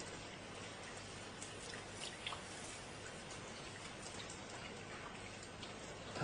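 Steady rain falls on hard surfaces, a dense hiss with scattered close drips and ticks, fairly quiet and with no voices.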